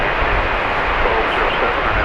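An American Airlines Airbus A321 airliner at DFW Airport, heard as a steady, broadband jet engine roar from a distance, with no break across the short stretch.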